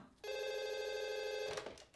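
An old-style telephone bell rings loudly and continuously for over a second, then stops abruptly, followed by faint background noise.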